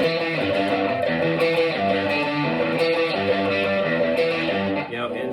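A loud, distorted, chopped sampled bass riff with a gritty, mechanical industrial texture plays steadily, its chopped tones repeating with no voices over it.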